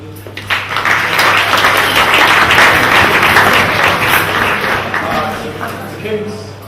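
Sustained applause from a crowd at a school rugby festival gathering, dense, steady clapping building quickly and holding loud for several seconds before easing slightly.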